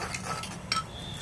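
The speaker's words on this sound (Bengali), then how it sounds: "টক দইটা একটু ফেটিয়ে নিচ্ছি।" Sour yogurt is whisked in a bowl, giving a brief patter of soft scraping and light metallic clinks from the utensil against the bowl, close and fairly quiet.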